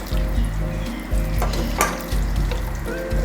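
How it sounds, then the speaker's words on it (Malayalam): Fish masala sizzling in a pan as coconut milk goes in, for pearlspot fish roasted in banana leaf; a steady close frying hiss with a low hum beneath and a brief brighter burst midway. "അപ്പോൾ അതിലേക്ക് നമുക്കൊരു അല്പം തേങ്ങാപ്പാൽ കൂടി ചേർത്ത് കൊടുക്കാം."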